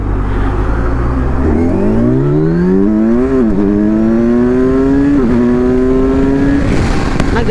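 Kawasaki Ninja 1000SX motorcycle with a 4-2-1 exhaust, revved hard under throttle. The engine note climbs steadily, dips briefly between gears, then keeps rising, loud and close, with no talk.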